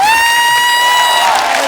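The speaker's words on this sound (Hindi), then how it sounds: "हिमेश सर के लिए जोरदार तालियां।" Studio audience at a Hindi television comedy show cheering and applauding loudly for a guest judge, a continuous dense roar of crowd noise with a sustained whistle-like tone over it, no speech.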